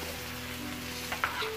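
Pork menudo frying in a Salad Master electric skillet, a soft steady sizzle with a low hum underneath and a couple of faint clinks near the end.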